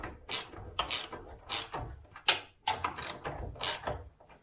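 A ratchet clicks in repeated short bursts as the top bolt on a car's rear subframe is tightened, each stroke a rapid metallic ratcheting close by, roughly seven strokes with brief pauses between.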